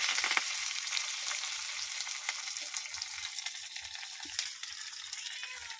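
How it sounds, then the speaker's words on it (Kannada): Mustard seeds, cumin and curry leaves sizzling in hot oil for a Mangaluru cucumber sambar, a steady close hiss of frying with occasional faint pops and stirring clicks. "ಎಣ್ಣೆ ಕಾದ್ಮೇಲೆ ಸಾಸಿವೆ, ಸ್ವಲ್ಪ ಜೀರಿಗೆ,"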